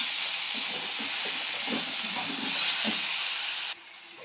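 Cumin powder and green chili sizzle and hiss steadily while being sautéed in a pan, a close, continuous frying noise that drops slightly near the end.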